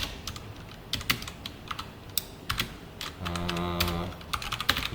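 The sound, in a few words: typing code on a computer keyboard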